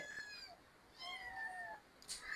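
A small kitten meows faintly in a few thin, high cries: one short mew, then a longer drawn-out meow and a brief final squeak, heard alone without talking.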